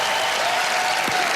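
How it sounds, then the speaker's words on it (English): A large studio audience applauds in a dense, continuous wash of clapping that holds steady for the whole short stretch. "Give her a round of applause."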